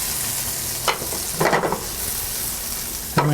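Hot butter sizzles in a pan for frying pierogi with a steady hiss, close up, and a few louder bursts of crackle break through as food is stirred or moved.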